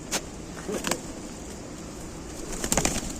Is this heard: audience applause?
no